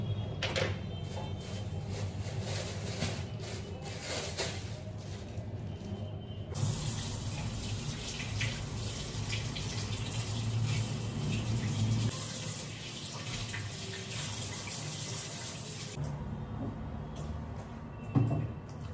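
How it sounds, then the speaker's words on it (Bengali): Raw chicken is washed under a running kitchen tap, with a steady gush of water splashing into a sink throughout and a brief clatter near the end. "তার আগে চিকেনটাকে ধুয়ে জল ঝরিয়ে দিই"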